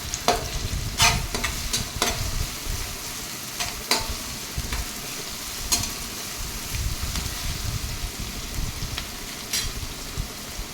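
Dhaba-style chicken tikka with garlic paste sizzles steadily in a pan while a spoon stirs it, giving sharp intermittent scrapes over the continuous frying hiss, with no talk.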